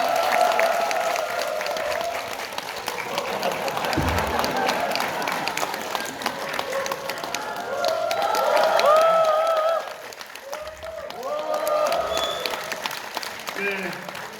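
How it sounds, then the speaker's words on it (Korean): Applause from a lecture audience at a university talk as laptops are submerged before a champagne performance, sustained clapping from a crowd mixed with voices and shouts, briefly dropping before picking up again. "큰 박수 부탁드리겠습니다."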